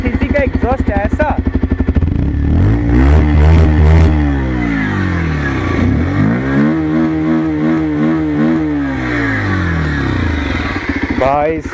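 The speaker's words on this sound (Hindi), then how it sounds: "125 सीसी का एग्जॉस्ट ऐसा" A 2024 Bajaj Pulsar 125 cc motorcycle exhaust revs close up, starting with a fast idle putter, then climbing and falling through several loud throttle blips before settling back to a rapid idle. Someone talks over it.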